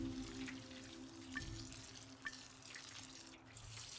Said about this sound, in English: Let's water our plants.